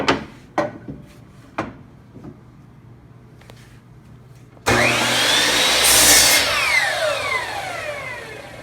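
A few sharp knocks of a wooden board being positioned, then a miter saw set at 90 degrees spins up loudly and cuts across the board, its whine holding strong before tapering off.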